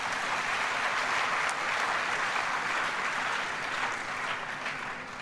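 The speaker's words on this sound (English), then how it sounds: "I believe they deserve a loud round of applause for doing that." An audience at an election peace and justice event gives a loud, sustained round of applause, an even roar of many hands clapping throughout.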